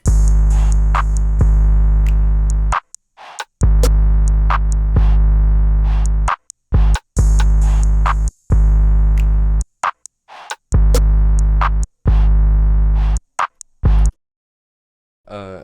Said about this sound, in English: I have these drums and they sound like this.